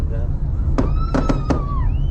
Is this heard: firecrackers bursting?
yes